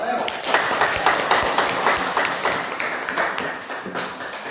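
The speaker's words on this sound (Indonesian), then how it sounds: "Beri tepuk tangan dulu ya." Classroom applause for a student group after reading pantun, a steady patter of many hands clapping in a room, with some voices mixed in.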